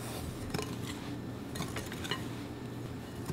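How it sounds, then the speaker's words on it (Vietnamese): Dry baking mix of flour, baking soda, baking powder and salt being stirred together in a bowl for a chocolate jelly island cake, heard as soft, steady scraping with light clinks of utensil on the bowl, close and quiet, with no talk. "Sau đó mình trộn tất cả lên."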